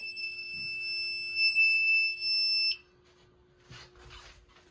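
New fire alarm system under test, its steady high electronic tone sounding loud and continuous for a few seconds before abruptly cutting off, leaving quiet room noise and faint movement.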